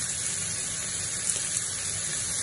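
Tap water runs steadily into a kitchen sink while chestnut mushrooms are washed, a continuous hissing splash with no talk.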